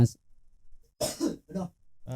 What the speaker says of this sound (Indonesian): batuk bro